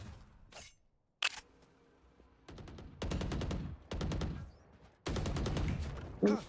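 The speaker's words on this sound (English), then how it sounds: "Some beginning gunfire" Gunfire bursts in a Valorant collegiate match, sharp crackling volleys arriving in several separate rapid clusters of shots, fairly close and loud between quieter gaps.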